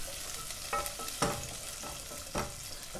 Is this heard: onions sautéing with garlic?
yes